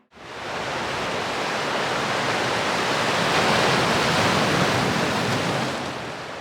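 Steady broadband wash of sea at a small beach cove in Altea on the Mediterranean coast, continuous and fairly loud without distinct wave breaks, no voices.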